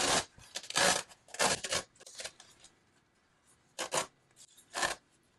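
Tape peels away in several short bursts as an RV door shade cover is lifted, giving crisp, close ripping rasps separated by quiet pauses.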